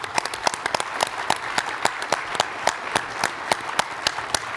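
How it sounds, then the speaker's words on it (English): Conference panel audience applauding, a steady brisk patter of distinct claps at moderate distance, filling the room evenly without talk. "Ron, John Barrett, round of applause."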